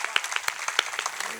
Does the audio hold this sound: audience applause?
yes